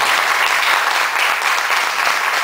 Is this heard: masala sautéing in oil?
no